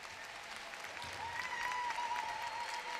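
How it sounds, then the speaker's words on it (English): At a dog show breeders stakes championship, a crowd gives a continuous round of applause for a Newfoundland breeder. The clapping is fairly faint and distant, with no voices over it. "Let's hear a nice round of applause for our Newfoundland breeder"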